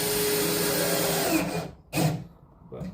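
A power drill drives screws into a homemade ice fishing box for a Ski-Doo Expedition. A loud steady whirring runs for about a second and a half, then stops, followed by another short burst and a fainter whir.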